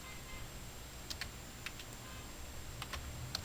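Fingers type a command on a computer keyboard in quiet, sparse bursts of light clicking keystrokes while configuring a router interface.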